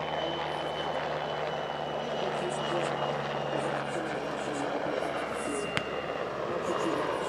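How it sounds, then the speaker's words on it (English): Czech Air Force W-3A Sokol helicopter flying an energetic solo display at the Radom airshow, a steady rotor and turbine drone at moderate distance with a faint rhythmic beat and a sharp click near the end. "the Czech Air Force also contributed their very energetic W3A Sokol solo display"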